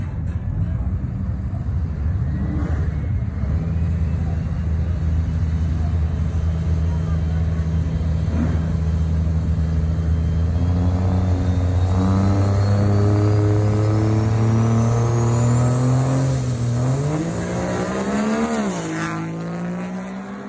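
A drag car's turbocharger spools up at the launch, its whine climbing steadily in pitch over a heavy, loud engine roar that builds for about fifteen seconds, then rises sharply again before easing off.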